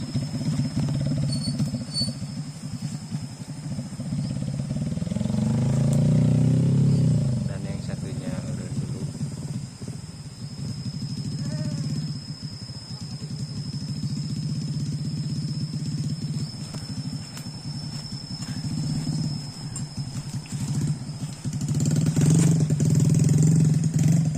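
A motorcycle taxi hauling harvested rice in the rainy season idles and revs nearby, rising louder in two surges, while people talk over the steady mechanical drone.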